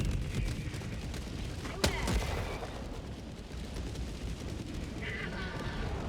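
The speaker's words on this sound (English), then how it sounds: "We got strafing runs." Strafing run gunfire in the co-op shooter Helldivers 2 forms a dense, rumbling barrage with one sharp crack partway through, heard under a streamer talking.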